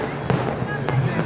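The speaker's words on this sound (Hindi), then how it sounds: "रंग बिरंगी आतिशबाजी से जयपुर का आसमान गुलजार हो गया।" Fireworks burst over the Jaipur sky during Makar Sankranti, two sharp distant cracks about half a second apart over a busy background murmur.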